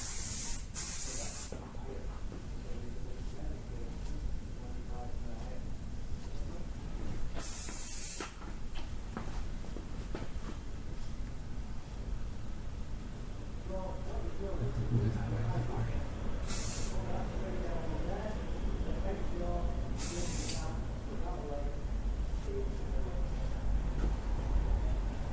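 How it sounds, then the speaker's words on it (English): Hairspray hisses onto fine hair during an early-1980s-style mall haircut, several sharp aerosol bursts spaced apart, close and loud against a quiet salon background. "And then we're going to go in with the spray and build it up."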